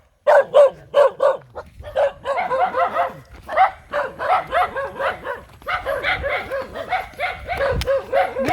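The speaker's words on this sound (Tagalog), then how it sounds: "Napakadaming aso. Ay nako, makagat kami nito." Several dogs bark over and over, their loud, overlapping yaps and woofs forming a nearly continuous chorus close by.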